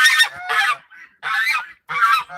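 Geese honking loudly nearby: four harsh, nasal honks in a row separated by brief pauses, with no talking.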